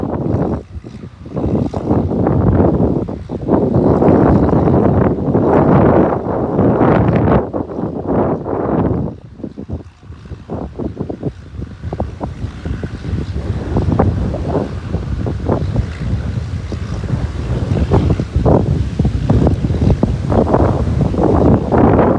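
Strong wind buffets the microphone in heavy, rumbling gusts that barely let up, with a brief lull partway through.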